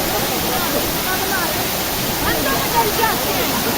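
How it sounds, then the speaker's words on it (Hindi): Steady roaring rush of the waterfall at Samandar Katha in the hills of Nathia Gali, a dense continuous wash of falling water close by, with faint voices barely showing through. "ये पॉइंट है, आबशार है यहाँ पे।"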